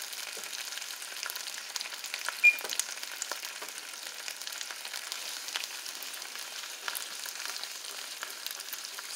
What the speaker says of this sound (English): So I just turn off the heat and I'm letting it cook in a skillet.